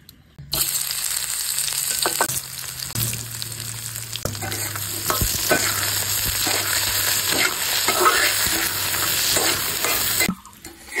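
Fresh leafy greens sizzle steadily in a hot pan for a Bengali shak bhorta, with a spatula scraping and stirring now and then; no talking.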